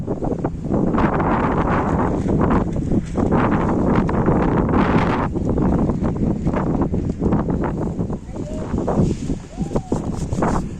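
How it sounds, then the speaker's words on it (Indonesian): Strong wind roars across the Surya Kencana mountain meadow on Mount Gede on a foggy early morning, a loud continuous rushing gust noise that fills the whole stretch with buffeting. "Angin masih kedengeran sangar."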